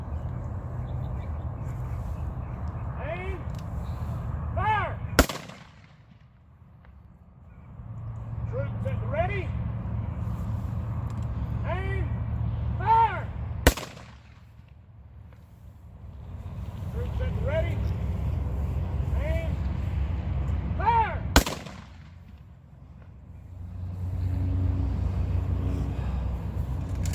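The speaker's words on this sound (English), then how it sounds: "Ready? Aim. Fire!" Three sharp, loud rifle volleys fired at even intervals as a ceremonial salute at an outdoor memorial camp ceremony, each crack followed by a brief hush before voices and low ambient rumble return.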